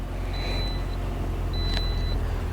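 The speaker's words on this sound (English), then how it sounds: "So let's start the engine one more time before we wrap up this video." A Toyota Corolla with 124,000 miles and a fixed crank-no-start fault runs with a steady, close engine hum, accompanied by a thin high whine that comes and goes twice.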